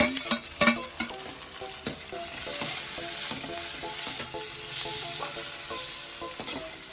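Tomato goes into a pan of frying onions for curd chicken and sizzles steadily, with a few sharp clinks and scrapes of a spoon stirring near the start, close and free of talk.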